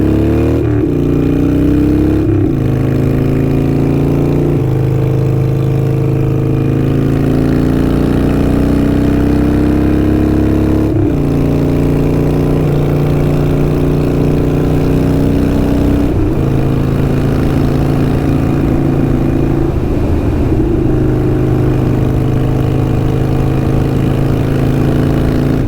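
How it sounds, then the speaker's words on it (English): Harley-Davidson Iron 883 motorcycle with Kinetic 540 Laterals exhaust riding in traffic, a loud, close, steady V-twin rumble that climbs in pitch through several gear pulls and drops back between shifts. "what do you guys think of the exhaust sound?"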